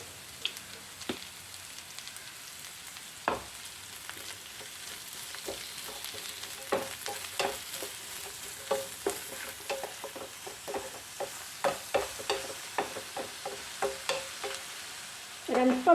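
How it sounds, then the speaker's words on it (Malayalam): Ivy gourd and prawns frying in a pan while being stirred, a quiet continuous sizzle with many irregular spatula taps and scrapes that grow busier toward the end, close and without talk. "1/4 ടീസ്പൂൺ ഉപ്പും കൂടെ ഇട്ടതിന് ശേഷം നന്നായിട്ടൊന്ന് മിക്സ് ചെയ്യാം"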